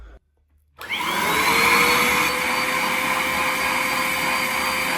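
A Bissell Cleanview Compact vacuum cleaner switches on after a brief silence and runs steadily on hard flooring, its loud, close motor whine holding constant to the end.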